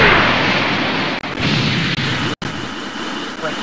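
The Special Beam Cannon attack in a Dragon Ball Z video game sounds as a loud, roaring blast of noise that fills the clip, broken by brief gaps and a sharp cutoff.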